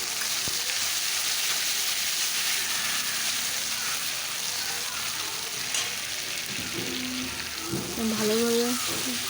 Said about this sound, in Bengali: ওই তেলেই আমি এখন গোটা জিরে আর তেজপাতা ফোড়ন দিয়ে দিচ্ছি, আর যে মশলাটা বেটে রাখছিলাম ওটাই দিয়ে দিচ্ছি।